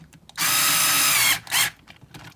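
Power tool snugging down rock slider bolts on a vehicle, one steady whirring burst of about a second followed by a short second pulse, close and fairly loud, with faint clicks around it.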